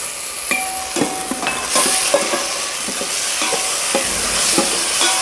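Mirepoix vegetables sizzle and fry steadily in a pan as they brown, with occasional stirring scrapes and clinks rising over the constant hiss, close and moderately loud.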